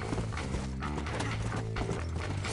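A horse in Red Dead Redemption gallops hard with rapid, rhythmic hoofbeats, close and continuous, along with some neighing and breathy snorts.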